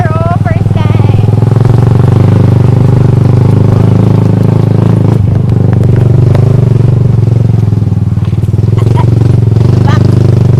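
A motorcycle ridden over a rough, rocky road, its engine droning loudly and steadily with clattering and scraping from the stones, while people talk over it.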